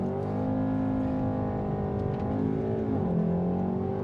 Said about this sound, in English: depress the foot on the brake, and you rev it up